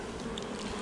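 A bee from an orphaned colony hovers close around someone's head near Menton, giving a steady, droning buzz that holds without pause and stays near and clear.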